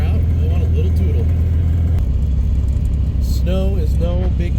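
Old 1967 air-cooled VW Beetle engine idling steadily after a cold start in 8°F snowy weather, a continuous low rumble heard up close, with voices talking over it.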